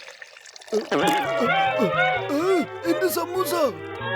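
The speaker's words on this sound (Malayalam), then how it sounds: "ഈ കെമിക്കല് ആ ജാറിലേക്ക് ഒഴിക്കണം" A cartoon chemical liquid is poured into a jar as a playful gurgling effect with wobbling, sliding tones and bubbly pulses, heard up close for a few seconds while a voice speaks over it.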